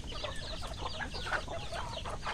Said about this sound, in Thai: จะมีแม่ไก่อยู่ประมาณ ห้าตัวนะครับผมลูกก็มีอยู่ประมาณ 20กว่าตัวครับ